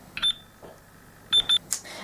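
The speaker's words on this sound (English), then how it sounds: "Pressing the mode button twice will emit 2 beeps and takes the watch into alarm setting mode" Reflex talking watch giving short high electronic beeps, one early and then two quick beeps close together, near and clear with button clicks and quiet gaps between.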